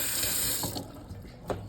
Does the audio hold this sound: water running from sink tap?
yes